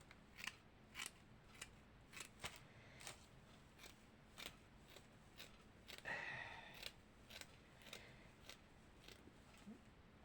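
Scissors snip through paper during Easter decorating, a series of sharp, quiet cuts at an uneven rhythm with a longer rustling slice partway through.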